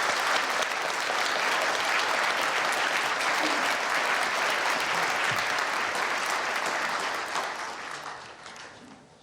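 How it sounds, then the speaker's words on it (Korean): Warm, sustained applause from a large audience at a national prayer breakfast honouring the president, dense and steady throughout before tapering off near the end. "우리 대통령님께 감사의 뜨거운 박수를 다시 한번 부탁드리겠습니다"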